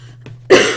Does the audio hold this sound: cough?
yes